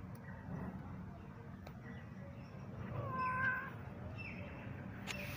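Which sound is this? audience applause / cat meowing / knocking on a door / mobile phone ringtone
cat meowing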